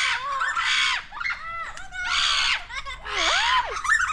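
Macaws perched overhead at a zoo give harsh, loud screeching calls in three long bursts, close and clear with no talk over them.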